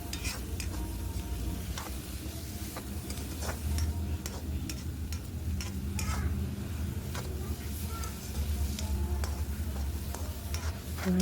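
Tomatoes and chillies are stirred in hot oil in a pan for Maggi noodles. A soft steady sizzle runs underneath while a spoon scrapes and taps the pan at irregular intervals.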